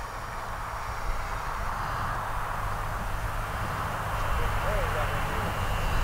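An E-flite EC-1500 RC model airplane flies overhead at an airfield, its electric motor a steady, fairly loud drone over wind noise that swells slightly near the end.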